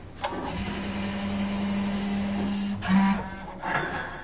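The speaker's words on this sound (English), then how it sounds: "The assembly returns to home, and you'll hear a little noise letting you know that it has completed calibration" A steady mechanical hum runs for a few seconds, then stops with a soft thud and a brief whir as a Barber Cut Lite calibration assembly returns home and settles into place.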